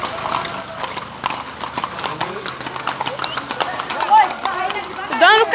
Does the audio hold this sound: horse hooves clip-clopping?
yes